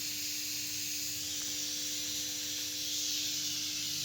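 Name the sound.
pressure cooker whistle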